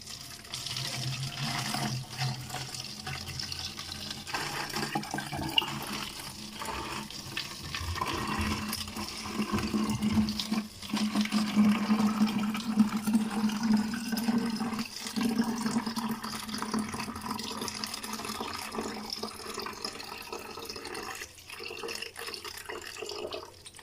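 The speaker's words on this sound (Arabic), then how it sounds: "هذا الماء هذا اللي حصلنا عليه غادي نحاولوا نديروه في القنينه" Homemade herbal juice pours steadily from a container into an empty plastic water bottle, a continuous close liquid gurgle and trickle running throughout with no talking.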